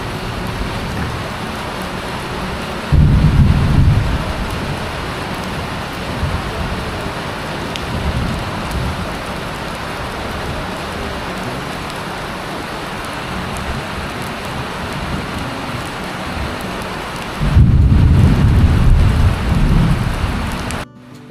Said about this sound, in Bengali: আর এই দেখুন বাইরে মুষলধারে বৃষ্টি হচ্ছে